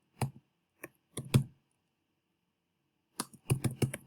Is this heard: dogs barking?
no